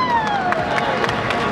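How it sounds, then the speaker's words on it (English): A crowd at a 2016 international RC fighting robot championship cheers and claps for a competing robot, a loud, continuous roar of voices and applause with falling electronic tones layered over it. "let's have a big round of applause for TinyToon."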